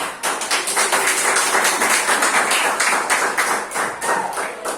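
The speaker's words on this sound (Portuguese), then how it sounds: "Eu quero que você aplaude o Senhor Jesus, irmão" A church congregation applauds together, a dense, steady wash of many hands clapping at close range that holds for several seconds without a break.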